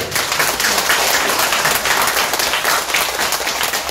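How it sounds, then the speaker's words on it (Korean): Congregation clapping during a large Buddhist memorial ceremony at Seongmoam temple in Gimje, a loud, continuous broadband patter of many hands that stays steady for several seconds. "이럴 때는 박수도 치고요."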